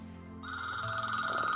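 An electronic telephone ringtone starts after a short quiet moment and keeps chirping steadily, fairly faint and with no one talking over it.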